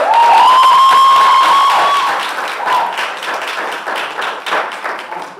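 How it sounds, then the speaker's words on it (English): An audience at a national debating championship final applauds the Shortwood Teachers College opposition team with a loud burst of clapping and cheering, topped by a sustained high whistle, then thins into scattered claps. "A round of applause."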